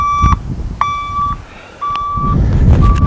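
A vehicle reversing beeper, quietened, gives four evenly spaced electronic beeps close by over a low engine idle.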